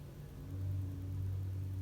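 Air suspension on a 2019 Volkswagen Touareg lowering the car, heard as a steady low mechanical hum and rumble with a faint whine, continuous and fairly quiet.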